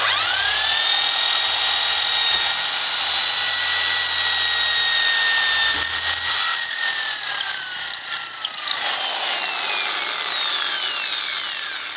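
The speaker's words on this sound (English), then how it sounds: "So we're going to drill through into this wood." A power drill whines at a steady high pitch while boring into very hard wood, loud and close, the motor pitch shifting and chattering as the bit cuts through.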